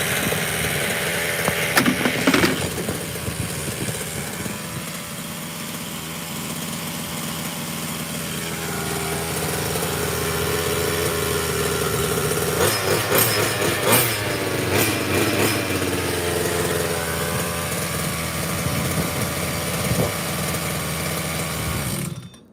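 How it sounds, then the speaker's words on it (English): A Redcat Rampage XR gas-powered RC rally car's small two-stroke engine runs steadily at idle, with brief throttle blips and a buzzing high-pitched drone heard up close, no talking. "That's what you call a great running gas engine."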